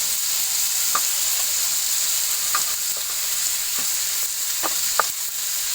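Chopped green chilies go into chicken curry sizzling in a hot pan: a loud, continuous frying hiss broken by a few sharp spoon scrapes and clinks while it is stirred.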